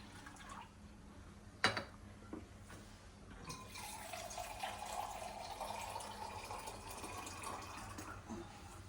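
Two cups of water are poured into a kadai pan at a farmhouse kitchen, a continuous splashing pour that starts after a few faint clicks and knocks and runs steadily to the end at moderate volume.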